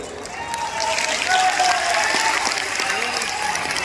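Soft, steady clapping from an audience at a religious gathering in Ayodhya, continuous and moderately loud for a few seconds with a faint murmur of voices in the hall.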